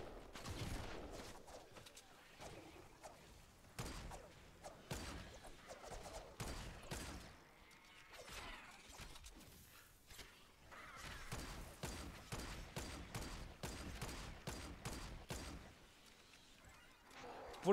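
Gunfire from a weapon in the zombie survival game Fortnite Save the World, quick repeated shots in bursts throughout, moderately loud under game noise and some talk.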